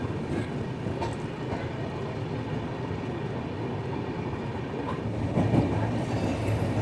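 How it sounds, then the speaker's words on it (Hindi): An express train rolls slowly through Lalgarh Junction, giving a continuous low rumble with soft rail clatter and occasional faint wheel squeal, heard from inside the train. The noise is steady and swells slightly near the end. "इस वक्त हमारी ट्रेन काफ़ी स्लोली लालगढ़ जंक्शन को स्किप कर रही है"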